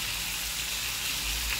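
Beef liver sizzles steadily in a hot pan with onion just added, a continuous close, even frying hiss with no pauses and no voices.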